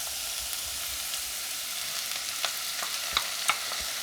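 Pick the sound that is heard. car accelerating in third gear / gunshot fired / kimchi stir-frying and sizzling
kimchi stir-frying and sizzling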